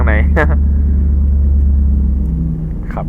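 A deep, steady Mercedes-Benz engine rumble in Euro Truck Simulator 2, loud and continuous, with brief voice-like tones at the start and end.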